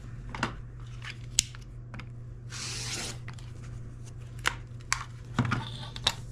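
Scissors trim a paper foundation pattern along its edge: a few sharp snips and crisp paper rustles scattered over a quiet room hum, close and fairly faint.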